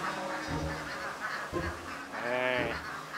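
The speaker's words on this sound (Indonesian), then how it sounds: "Tumben itu bebek jam segini berisik." Ducks in a pen quack and honk in loud, nasal calls, several overlapping bursts close by over a steady background hum.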